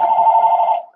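A telephone rings once in a sustained electronic tone during a podcast interview, loud and close, alone with no talk, fading out at the end.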